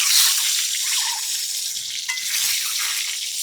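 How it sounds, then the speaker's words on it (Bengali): Duck eggs dropped one by one into hot oil set off a loud, close, continuous hissing sizzle that stays strong throughout, with small bubbling pops and no talking. "এইদিকে দেখো তেলটা পুরো গরম হয়ে গেছে। এবার আমি এক এক করে ডিমগুলো ছেড়ে দিই।"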